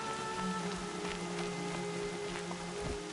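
Steady rain falling in the Horizon video game, a dense even hiss with scattered drop taps, heard alone against low tonal ambience.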